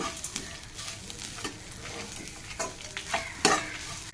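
Grated coconut seasoned with salt is sautéed in a pan for coconut rice, giving a quiet sizzle punctuated by irregular scraping strokes of a spatula, with one sharper clink near the end.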